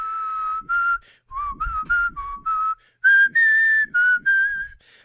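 A person whistles the melody of a song from Sleeping Beauty, clear and close, in short phrased notes with brief breaths between them and no talking.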